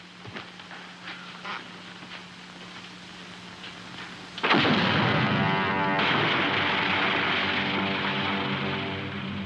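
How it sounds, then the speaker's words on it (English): A mountain blasted open in a 1957 film: a sudden loud explosive roar erupts midway after a quieter stretch, then sustains as a dense rumbling, crackling wash that slowly fades, with no voices. "We blasted this mountain inside out"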